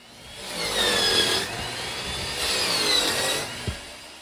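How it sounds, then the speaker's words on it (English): A power saw cutting through plywood on the roof of a 1770 farmhouse, two long rasping cuts in succession, loud and close, ending with a brief knock. "I'm cutting the plywood one direction so I can take it off in pieces"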